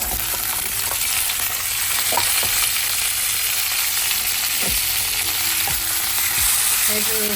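Steady, loud sizzling of vegetables for eggplant curry frying in hot oil fills the clip, with occasional scraping clicks of stirring.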